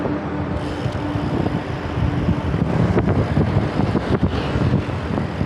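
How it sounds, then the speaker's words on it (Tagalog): Steady loud roaring rush of strong wind buffeting throughout during a bike ride in Makati, a broad constant noise with occasional gusty thumps, no voices. "Lakas ng hangin ah."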